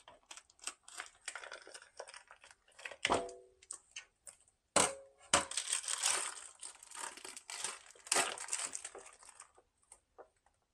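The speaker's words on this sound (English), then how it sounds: "I'm going to get these ribs out of the plastic." Plastic packaging crinkles and crackles as raw ribs are unwrapped, producing irregular close rustles and sharper crunches that come in uneven bursts.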